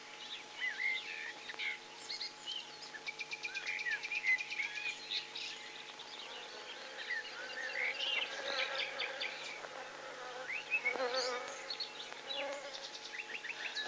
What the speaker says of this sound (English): The honey bees, brought to life, crowded around our camp and raided our water bags.